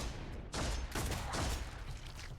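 Gunfire from the turn-based video game Deathwatch: Tyranid Invasion plays as a burst of several quick, fairly quiet shots clustered into about two seconds, blending into a rumbling volley.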